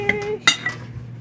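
A fork clinks and scrapes against a bowl while butter is stirred and mashed for chocolate chip cookie dough, giving a few sharp close taps and scrapes over a short moment with no talk.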